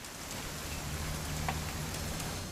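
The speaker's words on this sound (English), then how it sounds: "It's gonna rain the whole weekend," Steady rain in the video game What Remains of Edith Finch falls in a continuous hiss, with a few brief drip or tap sounds standing out.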